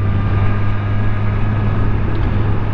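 A 2020 Suzuki Katana motorcycle engine drones loud and steady with a strong low hum, heard close over continuous wind rush while riding.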